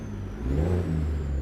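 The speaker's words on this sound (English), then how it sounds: "Listen to that engine." A Ford L8000 heavy truck with a DD60 engine in American Truck Simulator revs up, its deep rumble climbing in pitch and loudness before settling into a steady drone.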